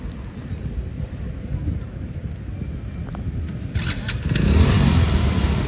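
A two-wheeler engine runs steadily while someone learns to ride, heard with heavy wind buffeting the microphone and rising louder toward the end.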